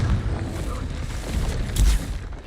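A Confringo spell explodes in the video game Hogwarts Legacy with a muffled boom that rumbles low and steady, swelling into a heavier burst near the end.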